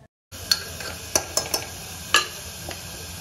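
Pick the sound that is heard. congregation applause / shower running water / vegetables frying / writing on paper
vegetables frying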